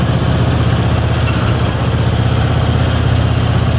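A T-25 tractor engine idles steadily up close, a loud low chugging rumble that holds an even rhythm throughout with no voices.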